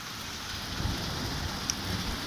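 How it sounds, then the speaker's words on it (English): Heavy rain pours steadily over Doniford Bay in Somerset during a thunderstorm, a dense, even hiss with low rumbling underneath and a faint crack near the end. "Yes, this thunderstorm's really bad tonight."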